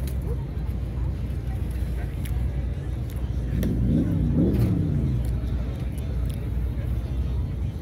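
Engine of a vintage Mercedes-style rat rod car at an outdoor car show, turning over and revving once in a brief rising-and-falling burst amid steady crowd and ambient noise.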